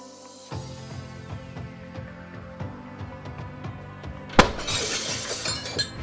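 Low rhythmic thumping plays, then a sudden loud crash of a glass door shattering, followed by a bright scatter of falling shards.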